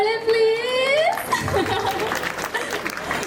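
Audience applause at a wedding reception, a burst of crowd clapping with chatter and light laughter mixed in, following a brief sustained tone, moderately loud and close with voices throughout.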